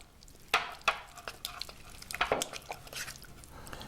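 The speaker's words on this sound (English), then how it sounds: "So the miso goes in right like this. All right, so now let's mix this." A spoon stirs miso into a small batch of sauce in a bowl, giving soft scraping and clinking taps at an uneven pace, quiet and close.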